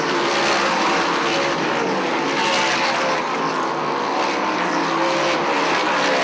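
Dirt modified race cars roaring around the oval at Airborne Speedway in Plattsburgh, New York, a loud, dense, continuous engine drone from several cars at once with no break and no talk.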